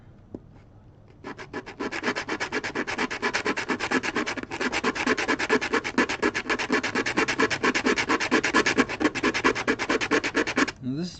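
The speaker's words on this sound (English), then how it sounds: "100 grit, so it takes off quite a bit of material in a short amount of time" Coarse 100-grit sandpaper rubs steadily over the wood of a 62-year-old violin, a dense, rapid back-and-forth scratching that starts after a quiet second and runs loud and continuous for about ten seconds.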